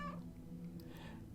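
A cat named Nosferatu gives a single short meow near the start, soft and fairly close, followed by faint background sound with no talking.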